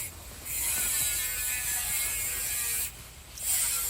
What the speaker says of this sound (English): I'm using the grinder. This plate that I'm using is only 16 gauge, so it cuts pretty quick with the grinder.